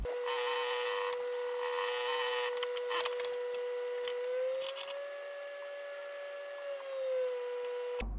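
Scissors snipping through fabric while shaping a sack-style backpack piece, a steady close rubbing and crisp cutting texture under a constant background hum, with no talk.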